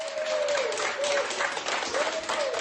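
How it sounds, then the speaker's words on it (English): Hospital staff applaud as 90-year-old Margaret Keenan leaves hospital, a dense, steady wash of clapping from a group, with a faint tonal hum running beneath it. "Staff clapped as 90-year-old Margaret Keenan left hospital"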